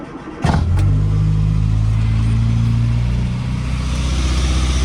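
A Morris Minor engine cranks and fires, settling straight into a loud, steady running drone with a low hum and tonal whine that holds close up for several seconds.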